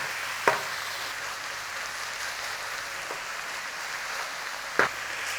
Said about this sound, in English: In there with your onions. Get them nice and soft and translucent.